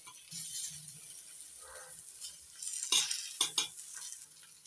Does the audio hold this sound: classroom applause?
no